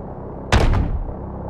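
A single heavy gunship cannon blast in Call of Duty Modern Warfare Remastered, a sudden loud boom with a quick second hit and a rumbling decay over a low background drone.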